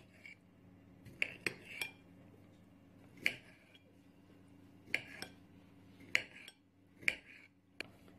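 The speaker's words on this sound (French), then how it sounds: "J'ai mis l'ananas dans une petite assiette et on va les couper en petits morceaux" A knife tapping and clinking against a small plate while cutting pineapple into small pieces, quiet, close, irregular sharp clicks spaced a second or so apart over a low steady hum.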